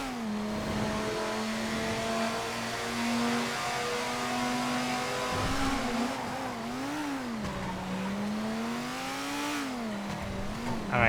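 Car engine revving and shifting in the GTA FiveM driving game, a steady mid-pitched drone whose pitch rises and dips through a hairpin turn, loud and continuous with no talking.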